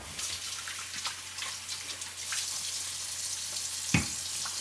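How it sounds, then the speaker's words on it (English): Hands being washed under a running kitchen tap, a steady soft splashing wash of water with brief louder spatters near the end. "After I wash my hands."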